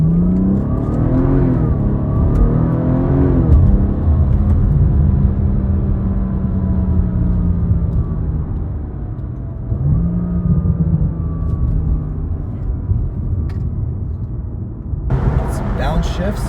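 BMW M240i engine revving hard with a rising and falling note, then dropping through downshifts with brief blips, loud and close, running steadily under the whole stretch while someone talks over it.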